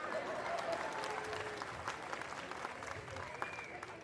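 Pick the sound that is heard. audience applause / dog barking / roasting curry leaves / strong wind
audience applause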